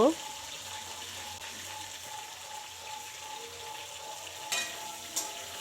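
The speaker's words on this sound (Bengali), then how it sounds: "এখন আমি ফুলকপিটা নাড়াচাড়া করছি" Cauliflower florets fry in hot oil in a pan for oats khichuri, giving a faint steady sizzle while being stirred, with a couple of brief louder clatters near the end.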